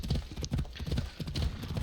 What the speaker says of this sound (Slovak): Ten kôň občas brutálne spanikári.